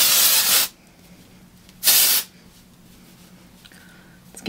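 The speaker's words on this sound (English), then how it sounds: "now I'm going to use some of that dry texture spray" Two loud, steady bursts of dry texture hair spray from an aerosol can, each hissing for about half a second with a quiet pause between.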